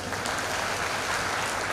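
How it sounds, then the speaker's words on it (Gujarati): An indoor audience claps together for a speaker, a dense, even burst of many hands applauding throughout the short stretch, no words spoken. "આપણે બધા એકવાર તાળીઓના ગણગણાટથી આપણે શ્રદ્ધાબેનને વધાવી લઈએ"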